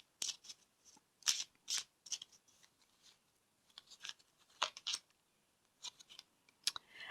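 Tarot cards being drawn and handled, with repeated crisp shuffling and snapping card sounds in short bursts, close up and alone.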